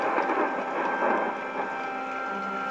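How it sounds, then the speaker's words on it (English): Steady rain hisses with a low distant rumble of thunder in the background. "Sounds like a stormy night to me."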